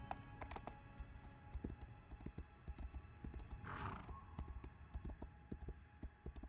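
Horse hooves clip-clop in a video game, with a quick, steady, fairly soft beat of hoofbeats and a brief snort or whinny partway through.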